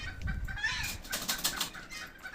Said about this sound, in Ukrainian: Птиця бігає поволі. Всі курчатка, і мішані, і бентамки.